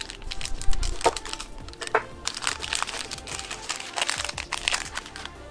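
Plastic wrapping is crinkled and torn open around a Bombe Cosmétique Summer Cherry soap bar, a close run of loud crackling and crumpling with sharp snaps, and no voice.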